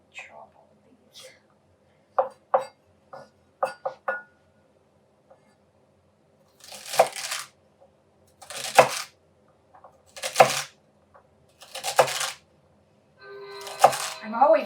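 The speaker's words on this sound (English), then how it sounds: "So I'm slowly chopping away." Food for Senate bean soup is chopped with a knife on a board in slow, separate strokes and small scraping bursts, with quiet pauses between them.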